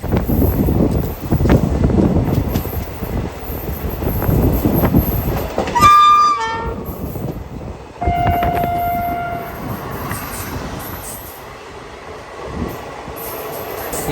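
An Indian sleeper class express train pulls into Gurgaon station, its steady rolling rumble broken by a short burst of sharp, tonal horn notes partway through, followed by a long, steady horn blast that fades into the moving train's noise.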